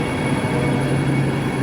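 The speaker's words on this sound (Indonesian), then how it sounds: "Ini dia penampakan LRT ya teman-teman ya, yang hampir mirip seperti MRT ya." A Jakarta LRT light rail train, two cars long, gives a loud, steady low rumble with a sustained whining tone, heard close and continuous with no talk.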